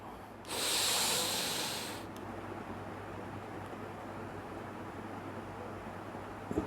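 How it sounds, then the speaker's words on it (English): A long, forceful exhale through the nose during a yogic breathing exercise, a broad breathy hiss rising suddenly, holding steady for about a second and a half, then fading into quiet room noise. "Exhale."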